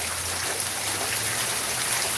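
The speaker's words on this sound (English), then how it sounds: "I am outside on the porch, and it seems like the whole world is raining around me." Heavy rain pours all around a porch as a dense, even hiss that stays steady and close throughout, with no other sounds.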